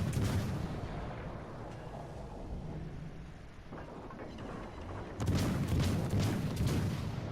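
HMS Belfast cruiser guns firing in World of Warships Legends, a rumbling artillery bed that swells into a louder burst of gunfire near the end, heard alone without talk.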